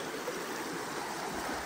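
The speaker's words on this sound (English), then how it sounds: "you still got to get across that fast current" Fast river current rushing at a trail crossing in the 100 Mile Wilderness on the Appalachian Trail, a steady close broadband roar of water with no voices.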